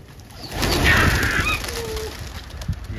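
Patiala pigeons coo and flutter close by during a pigeon fight, a fairly loud burst of calls and wingbeats over scattered noise.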